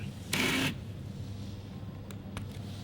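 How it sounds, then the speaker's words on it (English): Shutter of a Mamiya ZD medium format digital camera fires once, a short loud mechanical burst of about a third of a second followed by two faint clicks over quiet room noise. "the shutter sound is like really amazing on this"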